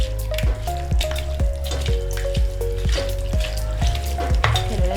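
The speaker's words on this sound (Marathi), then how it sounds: "तेल गरम झालेले, आता आपण कांदा घालूया।" Onion fries in hot oil for a spicy chicken curry, a crackling sizzle under rhythmic, evenly spaced knocks and ringing clinks of a utensil against the pan, close and fairly loud.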